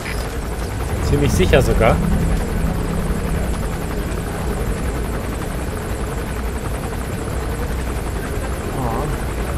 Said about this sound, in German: da könnten wir den Kampfhubschrauber unter Umständen kriegen mit C4